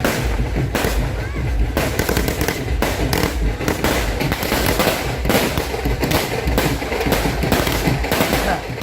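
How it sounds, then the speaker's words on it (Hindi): Firecrackers bursting through a Pakistan Independence Day celebration night, loud dense volleys of rapid cracks and pops firing almost without pause, layered near and far. "एक और टॉर्चर जो हम जश्न की रात सहते हैं वो है रात भर पटाखे फोड़ना"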